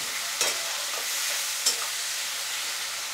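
Onions and tomatoes frying in a pan for an oyster masala fry, a bright continuous sizzle with two distinct spatula scrapes, close and unaccompanied by talk.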